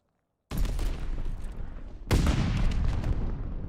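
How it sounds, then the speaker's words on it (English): Grenades and stun grenades detonating in a competitive esports match, two sharp loud blasts about a second and a half apart, each followed by a long rumbling decay. "The Nades and Stuns goes on out."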